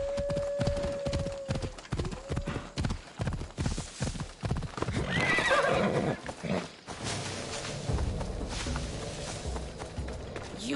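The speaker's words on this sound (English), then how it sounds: "Looks like a sturdy horse." Horse hooves clip-clopping in a steady walking rhythm with a clear whinny at the start, in the video game Assassin's Creed Odyssey, followed by brief talk and game ambience.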